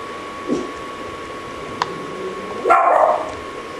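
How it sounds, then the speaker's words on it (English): A dog barks indoors, with a few short distant yips and one louder bark burst near the end, set against a quiet room hum and a faint steady tone. "Sorry, that's my dog barking."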